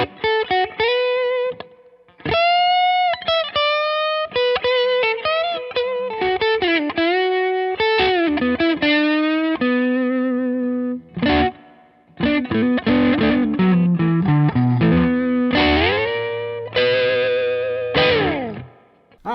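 Squier Affinity Telecaster Deluxe electric guitar through overdrive, a busy riffing passage of distorted single notes, bends and chords with short breaks, played alone with no speech.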